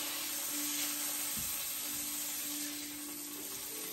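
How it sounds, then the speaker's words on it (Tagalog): Sausage sizzles in its own rendered fat in a pan with no added oil, a steady soft crackling hiss with one low thump midway, fairly faint and without talk. "hindi mo na talaga siya kailangan lagyan ng mantika pag nagprito ka ng sausage"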